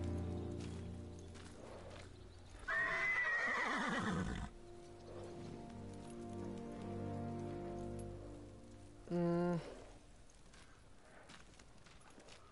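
A horse in the video game Ghost of Tsushima whinnies loudly, then a second shorter neigh follows, over a soft background patter like rain.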